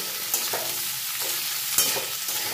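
Vegetables being stirred with salt and turmeric in a pan, a steady close sizzle with a few scraping strokes and light clinks of the spatula, no speech.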